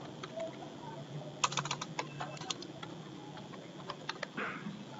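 Home address being typed on a computer keyboard during an online exam admission form entry, heard as a close, quiet run of irregular key clicks with small bursts and pauses, no voices.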